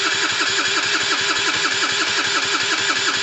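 A Gilera DNA two-stroke scooter engine cranks over with the throttle held wide open for a compression test, a steady, fast, rhythmic chugging that stays loud and close throughout without catching.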